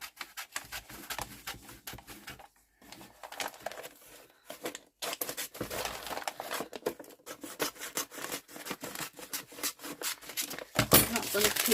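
Paper being trimmed for a summer-themed journal: intermittent scraping, rubbing and snipping sounds in short bursts, close and fairly quiet, with brief pauses and a louder rustle at the end.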